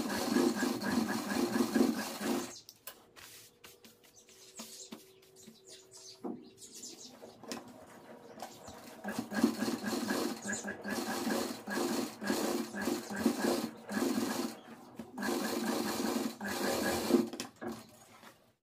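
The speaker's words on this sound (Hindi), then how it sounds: "पहले यहां सिलाई लगानी है इसके" A domestic sewing machine stitches the edge of an old towel being turned into a kitchen towel, its steady mechanical whir coming in bursts with short pauses between runs.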